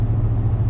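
Thelma, a small two-door hardtop car, driving with a steady low engine rumble and a constant mid-pitched hum, loud and close, with no pauses and no talking.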